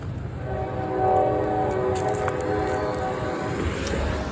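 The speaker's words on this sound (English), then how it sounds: "Yep, trains are deceptively silent, aren't they?" A train rolls past on the tracks while walking through Cartersville, a steady low rumble of railcars with a faint sustained horn tone drifting over it at moderate distance, no voices.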